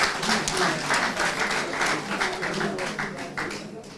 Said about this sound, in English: Please, let's acknowledge them with a round of applause.